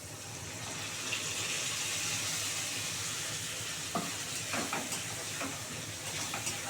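Ground spice paste from a mixer goes into a pan for a vegetarian sesame-paneer dish, a steady sizzle that turns bubbly and wetter, with scattered spoon scrapes and splutters toward the end and no voices.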